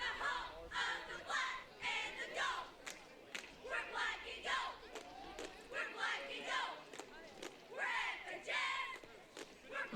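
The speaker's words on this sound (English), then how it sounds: "You hear the cheerleaders cheering on the Wolves." Cheerleaders chant and cheer for the Wolves at a high school football game, rhythmic bursts of massed young voices rising and falling in waves from the stands, fairly distant.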